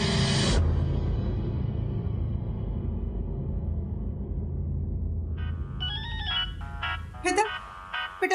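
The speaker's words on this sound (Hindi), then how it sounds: "बेटा देख तो किसका फोन है।" A melodic phone ringtone starts up after a low rumbling stretch, playing a bright repeating tune that grows busier toward the end.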